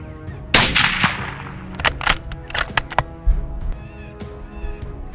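Hunting shotguns and rifles fire several sharp, separate shots at irregular intervals in open country, each crack fading quickly, with one loud blast near the start and quieter reports after it.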